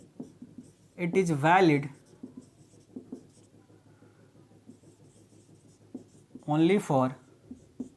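Chalk or pen scratches out numbers on a board during a Hindi-language Class 12 physics lecture on Coulomb's law, a steady run of soft, close scraping taps between two short stretches of someone talking.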